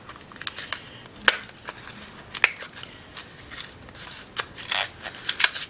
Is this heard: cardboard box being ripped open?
yes